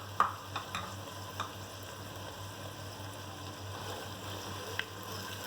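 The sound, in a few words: cumin seeds frying in a pan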